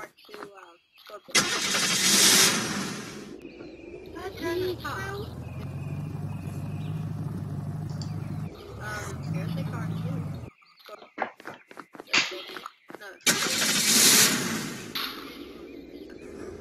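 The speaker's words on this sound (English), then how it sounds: "that's a military Humvee" A military Humvee engine nearby: a deep, mid-pitched rumble building and holding for several seconds, then fading, with people talking loudly before and after it.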